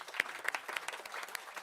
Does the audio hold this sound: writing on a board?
no